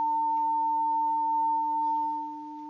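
Two pure sine tones sound together as a steady, clean electronic hum, one lower and one higher pitch, held evenly before softening slightly near the end.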